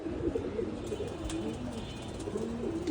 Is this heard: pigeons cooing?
yes